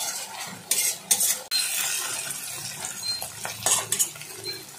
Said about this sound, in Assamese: পিঁয়াজখিনি গোল্ডেন ব্ৰাউন হোৱালৈকে মই ভাজি ল'ম।